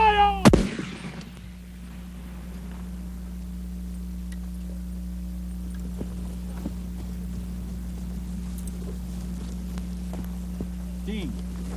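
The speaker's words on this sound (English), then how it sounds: "Fire!" A single loud, sharp blast from an 1800s Napoleon cannon fired by a gun crew rings out near the start, then trails off into a steady low hum and faint distant activity.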